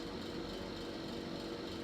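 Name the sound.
small heater running in a workshop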